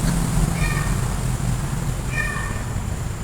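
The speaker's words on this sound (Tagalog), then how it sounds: "Pero ngayon lang siya nagmamyaw." Two faint, high kitten meows, spaced apart, barely rising above a loud, constant rumble of background noise.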